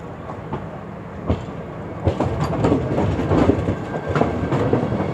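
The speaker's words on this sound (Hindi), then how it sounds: "देखिए जामनगर अहमदाबाद वंदे भारत एक्सप्रेस।" The Jamnagar–Ahmedabad Vande Bharat Express rolls through Ahmedabad station with a steady rumble and rhythmic wheel clatter that grows louder and denser partway through, close by and without talk.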